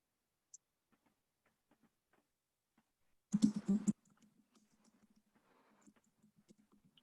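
A computer mouse clicks once softly, then a brief loud burst of rapid clicking, followed by scattered faint ticks under a low murmur.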